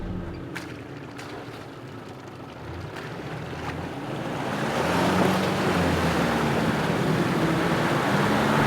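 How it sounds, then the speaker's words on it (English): Strong wind buffeting a microphone outdoors in Victorian High Country mountains, a steady roaring rush that swells louder midway, with a low engine hum and a few faint clicks beneath. "Hopefully this wind isn't too bad on the microphone."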